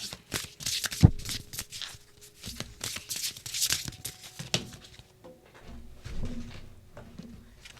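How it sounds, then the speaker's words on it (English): Oracle cards shuffled by hand in a series of soft, rapid riffling and flicking bursts with occasional sharper snaps, close and fairly quiet, no talking. "I'm gonna pull the oracle cards a little bit more in depth"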